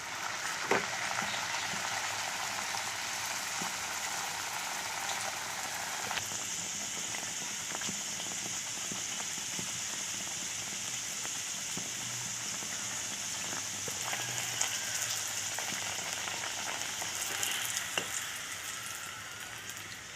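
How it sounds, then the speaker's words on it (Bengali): Pea-stuffed kochuri frying in hot oil, a steady broad sizzle and bubbling that holds for the whole stretch, close and even, with no talk over it. "এবার আর একটা পুরি আমি ভেজে দেখাচ্ছি"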